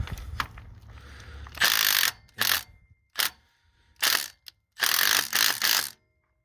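Milwaukee M18 Gen 2 compact mid-torque impact wrench working a bolt off at a salvage yard: several loud, close hammering bursts of ratcheting impacts, separated by short pauses, with no talking.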